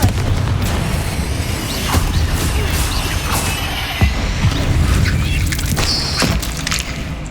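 A Confringo blasting curse explodes in Hogwarts Legacy, a loud booming blast among repeated crashes and bursts over a steady rumbling backdrop of spell combat, with sharp impacts near the two- and four-second marks.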